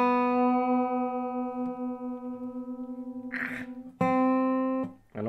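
A single sustained open string note on a squareneck dobro in G tuning, raised one step, rings out steadily, then is struck again twice, bright and close with a metallic, slightly sliding tone.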